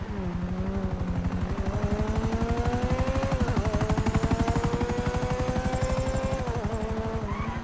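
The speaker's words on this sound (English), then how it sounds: "Great! Another chopper!" A helicopter in the video game Grand Theft Auto V hovers close by, its rotor beating in a fast, steady, loud chop that continues without a break, with no voices.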